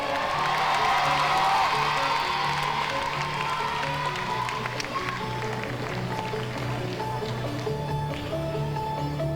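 A crowd at an IFSC combined qualifier climbing competition in Toulouse cheers and applauds a climber, a steady dense roar of clapping and whoops that stays loud throughout, with music and a voice faintly underneath.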